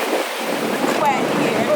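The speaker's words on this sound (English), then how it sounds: "It is the sound of the falls." Distant roar of a tall Canadian waterfall, a broad steady rushing wash with gusty wind buffeting the microphone, continuous throughout with no clear talk.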